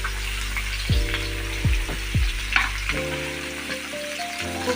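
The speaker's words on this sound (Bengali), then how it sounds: "মাছ ভাজা হচ্ছে।" Pieces of katla fish fry in hot oil, a loud steady crackling sizzle with a few low thuds and clinks running through it.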